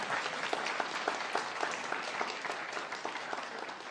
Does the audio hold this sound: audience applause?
yes